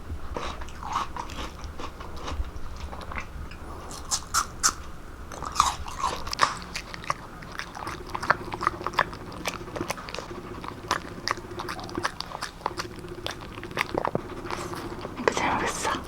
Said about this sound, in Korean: 여기 사과 먹을까?